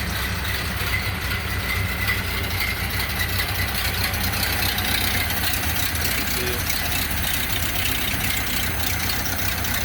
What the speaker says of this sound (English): Idling nicely.